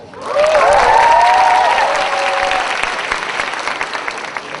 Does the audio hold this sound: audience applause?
yes